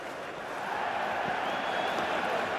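A steady wash of stadium crowd noise from a Cricket 26 one-day match between India and England rises slightly and holds as a dense, continuous roar. No voices stand out.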